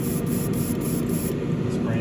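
Thinned paint sprayed from an airbrush onto a Ferrari SF90 Spider scale model, a steady close hiss running unbroken with faint rhythmic pulsing in the upper range.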